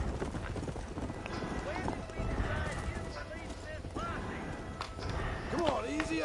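Several horses gallop in the Red Dead Redemption video game, a busy rhythmic clip-clop of hooves that rises and falls under voices talking in the game.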